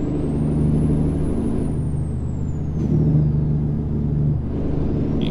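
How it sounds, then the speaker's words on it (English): Truck in a driving game slowing for a corner with its Jake brake set to low, a loud steady rumbling drone with a throaty pulsing tone that swells and fades in a couple of stretches, no voices. "slow down for this corner here. And actually turn my Jake brake down to low"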